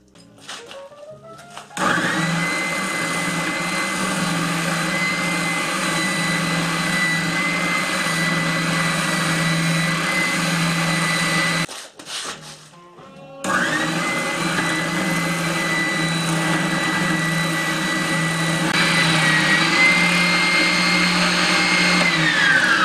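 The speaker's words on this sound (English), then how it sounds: "I have to put it on the oscillating spindle center and cut it right to that line" Oscillating spindle sander cutting a wooden piece to a line, a steady loud motor whine with a high grinding tone that runs continuously, stops briefly near the middle, then resumes and grows slightly harsher toward the end.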